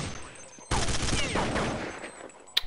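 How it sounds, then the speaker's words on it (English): Counter-Strike gunfire on the de_inferno map during a DreamHack 2011 match, a dense loud burst of overlapping shots that starts abruptly and keeps rattling on, with a faint sharp click near the end. "A lot of gunfire going on right now."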